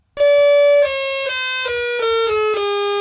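Stylophone Gen X-1 synth with its low-pass filter cutoff at maximum, playing a bright buzzy tone rich in overtones that steps down through a short descending series of sustained notes, loud and alone.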